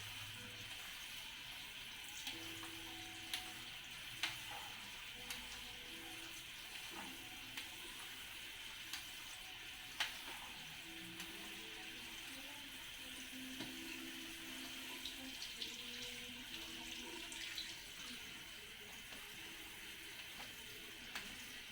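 Water from a pot of salted, oiled macaroni pouring out into a sink, a steady splashing gush with faint clinks and scattered knocks of the pot, continuing for the whole stretch with no talk.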